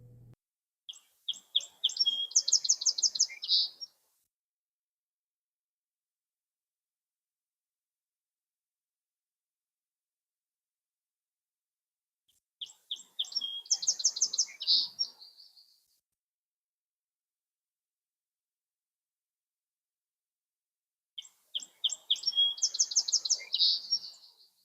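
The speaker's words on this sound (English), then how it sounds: "Back to the birds." Birdsong in a dawn chorus before sunrise: three separate bursts of high, rapid chirping phrases, each a few seconds long and spaced by long quiet gaps, clear and fairly close.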